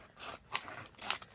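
Scissors cutting through a plastic bag, two quick crisp snips close by, faint and alone.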